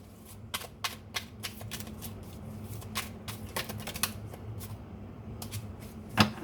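Tarot-style cards are shuffled and drawn for a card reading, producing a run of quick, crisp riffling flicks up close and a final louder snap as a card comes out. No voice is heard.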